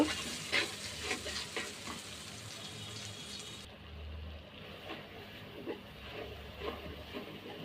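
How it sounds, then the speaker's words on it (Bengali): Spices are stirred and sautéed in a pan for a vegetarian dish of raw banana and papaya, with a soft, low sizzle and faint scraping, heard quietly and close, with no talking. "দিয়ে দিব মশলা মশলাগুলো ভালোভাবে কষাই নিব"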